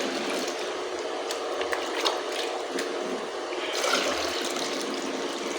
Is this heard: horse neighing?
no